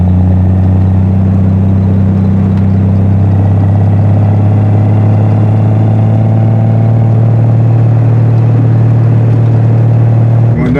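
A Triumph TR6 sports car engine drones loud and steady from inside the car while it drives, a deep even rumble that keeps a constant pitch, with no talking.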